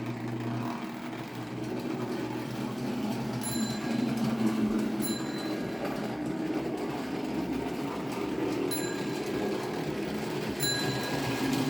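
Two Lionel Western Maryland NW-2 model diesel switcher locomotives run double-headed, their bells ringing in near-perfect sync as repeated bright dings over a steady, rumbling model-train motor hum.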